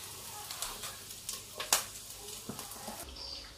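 Nigerian fried rice frying in a pan, giving a steady broadband sizzle with crackles and a few sharper stirring scrapes, moderately close and continuous, with no talking.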